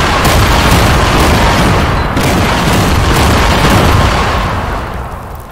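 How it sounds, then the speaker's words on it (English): Bombs going off and knocking down buildings in a video game: loud, dense booming blasts rumble without a break, one heavy explosion rolling into the next and fading slightly toward the end. "da samo postavljam ovako bombe... da uništim ove buildings"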